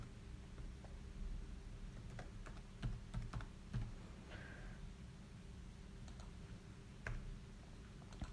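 Someone types a name on a computer keyboard, quiet scattered key clicks in short bursts over a low room hum.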